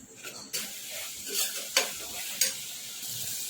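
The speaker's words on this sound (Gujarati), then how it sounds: "હવે મિક્સ કરી લઈશું।" Spices for Gujarati masala rice are stirred in a hot pan: close scraping strokes over a soft sizzle, with a few sharp utensil scrapes standing out and no voices.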